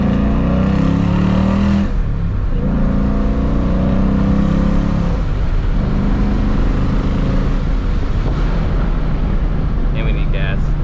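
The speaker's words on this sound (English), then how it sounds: "if I bring it up in the RPMs, it does have a slight rasp to it" A 2018-2023 car fitted with an MBRP Pro-Series active aftermarket exhaust revs up and down close by, a low rumbling drone that rises in pitch with a slight rasp.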